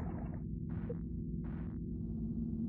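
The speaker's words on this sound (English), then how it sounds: "Sifting through some silt." Sifting through silt in the underwater video game Water Womb World: three soft, brushing bursts spaced about a second apart over a steady low ambient drone, quiet throughout.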